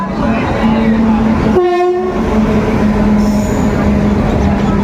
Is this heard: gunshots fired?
no